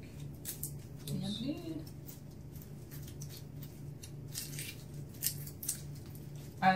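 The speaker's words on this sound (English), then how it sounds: "And I will shuffle my deck." Soft, rapid papery flicking and patter of a deck of cards being shuffled, close by, with a brief voice early on.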